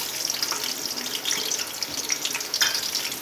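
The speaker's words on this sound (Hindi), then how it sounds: "घी हमारा गर्म हो चुका है। इसमें प्याज ऐड करते हैं।" Onions drop into hot ghee and fry with a soft, hissing sizzle, a close, fairly quiet wash of bubbling with small crackles over about three seconds.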